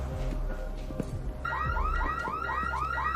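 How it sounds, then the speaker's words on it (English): A security alarm in a gallery with paintings on the wall bursts on partway through, wailing in rapid, repeated rising sweeps that stay loud and steady after a quieter lead-in. "The alarm should be going off right about now."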